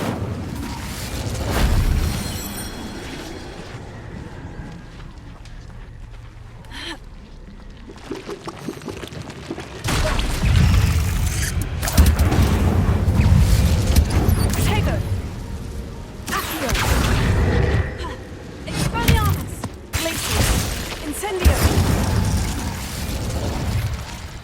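A fire spell cast in Hogwarts Legacy erupts in loud roaring bursts and crackling blasts, with several surges and whooshes over a rumbling game soundscape.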